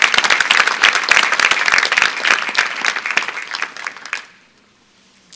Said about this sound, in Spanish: Denle el aplauso al Señor si lo recibe.